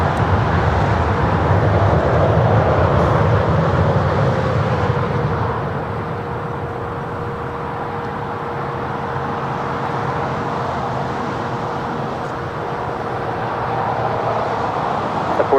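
A United Airlines Boeing 787-10 Dreamliner at LAX produces a broad, steady jet roar with a faint sustained whine. The sound is loud at first, eases slightly, then holds as an even rumble.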